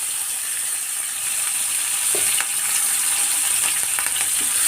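Onion, tomato and green chili sauté in hot oil for a prawn and drumstick curry, giving a steady, close frying hiss with faint scraping and stirring clicks throughout.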